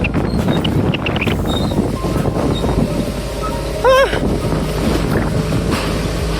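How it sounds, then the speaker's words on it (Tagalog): Strong wind blasts across an outdoor microphone near Taal in a continuous loud rumble for the whole stretch, with a short whistling tone midway and a voice faintly underneath. "Lakas ng hangin, inabot yung drone ko."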